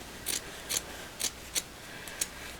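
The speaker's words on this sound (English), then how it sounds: "I'm going to just cut a shape a little shorter" Scissors cutting pink felt up close, five soft crisp snips in a steady rhythm, quiet and alone.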